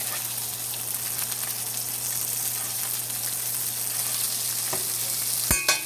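Butter sizzling steadily around a New York steak in a frying pan, a dense continuous crackle and hiss held close for several seconds, with a couple of sharp pops near the end and no voices.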